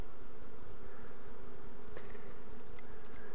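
Honey bee swarm with young queens inside a hollow linden tree, a dense continuous buzzing hum from many bees, close and steady throughout with a few individual bees passing nearby.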